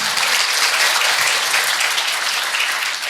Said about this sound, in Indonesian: Beri tepuk tangan untuk Mbak Ana sama Pak Faiz